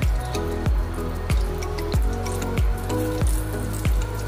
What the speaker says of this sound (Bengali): এবার তেল গরম হয়ে গেছে, তেলের মধ্যে আমরা প্রথমে একটু ঘি দিয়ে দিলাম